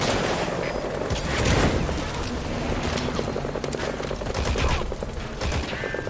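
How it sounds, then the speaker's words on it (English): Support helicopter arriving at the landing zone in Metal Gear Solid V: The Phantom Pain, a loud continuous rotor thrum mixed with bursts of gunfire throughout. "Support helicopter has arrived."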